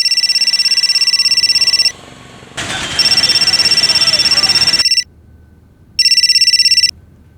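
A telephone ringtone sounds in loud repeated electronic bursts, pausing between rings, with a brief stretch of noisy background in the middle.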